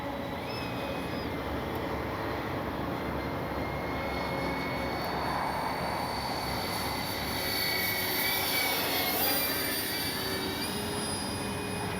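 Freewing AL-37 RC model jet in flight, a continuous high-pitched turbine whine that rises and falls slightly as it passes, steady and fairly loud with no talk.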